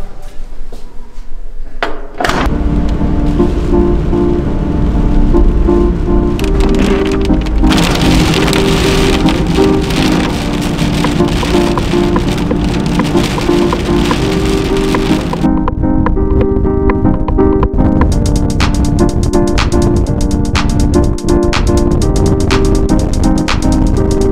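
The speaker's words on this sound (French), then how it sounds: "évidemment, c'était sous la pluie." Rain falling on a converted car used as a campervan on the road toward Biarritz, with steady close drumming on the roof and drops tapping on the surface, continuous and loud throughout.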